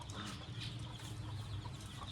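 Kuwaiti chickens clucking on a poultry farm: faint, soft clucks over a steady low background hum, heard at a distance with no clear talking.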